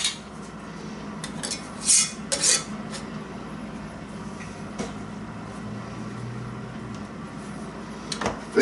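Glass canning jar gets a metal lid and screw ring set on and twisted finger tight, with a few brief clinks and scrapes of metal on glass over quiet kitchen background.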